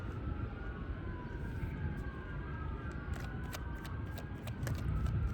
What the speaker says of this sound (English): These damn sirens.